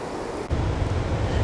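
Rushing river rapids at Kakabeka Falls in Ontario give a broad, steady roar of whitewater that swells louder after a brief dip, with some wind noise over the microphone.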